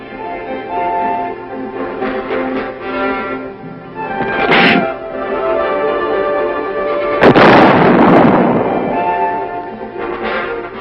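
Artillery gun test firing a shell at Aberdeen, a sharp heavy blast around the middle followed by a booming roar that decays over a couple of seconds, amid a humming tonal background and smaller earlier thuds.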